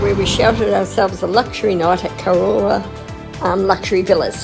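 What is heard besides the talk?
No everyday noise stands out behind the speech.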